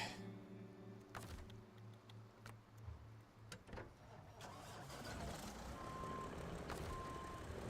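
Kenworth truck in the off-road driving game SnowRunner, with a steady engine drone and a few clunks, then a series of short electronic reversing beeps near the end.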